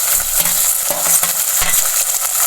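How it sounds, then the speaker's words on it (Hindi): Finely chopped tomatoes fry and are stirred in a pot for a beef and potato curry, giving a steady loud sizzle with a few scraping stirs of a spoon throughout. "अब टमाटर को मैं थोड़ी देर भून लूंगी"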